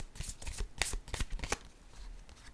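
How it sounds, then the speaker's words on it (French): Playing cards drawn from a deck during a card reading, a quick burst of soft papery riffling and flicks, faint and close, ending after about a second and a half. "je vais piger une carte"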